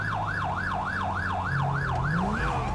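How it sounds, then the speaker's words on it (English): A modded police cruiser siren in GTA 5 wails in a steady, repeating up-and-down sweep, loud and continuous throughout, with a low engine hum underneath and no talking. "And there's our siren that we changed out."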